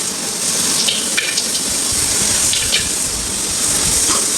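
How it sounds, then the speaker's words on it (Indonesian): Vegetables frying in a pan for clear vegetable soup, with a continuous loud hiss and sizzle and a few sharp crackles, steady throughout. "Ini buat sayur beningnya aku goreng dulu."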